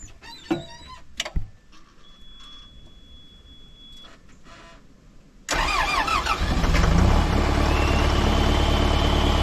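A Komatsu D39-PX bulldozer diesel engine with an oil-burning, runaway fault cranks and catches abruptly into a loud, close roar that builds and holds steady, after a quiet stretch with faint clicks and a thin whine.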